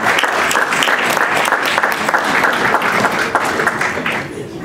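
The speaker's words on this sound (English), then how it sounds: "I'd like to ask you all for a round of applause to thank Bingham for making it." An audience at an annual meeting gives loud, sustained applause, a thick steady roar of many hands clapping that thins slightly at the very end.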